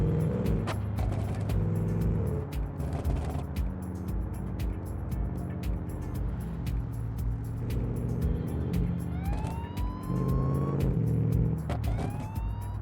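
Car engine and wailing police sirens in a driving video game, an ETK car chased by police, with a steady engine drone and rising siren sweeps near the end.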